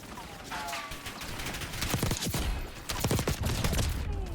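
Rapid automatic fire from a Kilo assault rifle in Black Ops 6, loud and near, running in dense bursts through the whole stretch with short gaps, with faint game sounds underneath.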